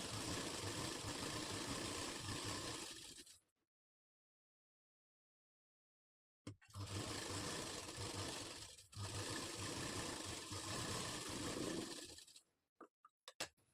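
A sewing machine runs a stitch along the lining edge of a katori blouse, with a long steady buzzing run, a few seconds of silence, then another sustained run ending in short stop-start bursts.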